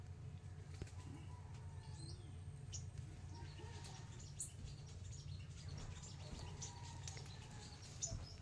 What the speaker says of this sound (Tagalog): Tapos marami talagang ibon na tumatambay dito.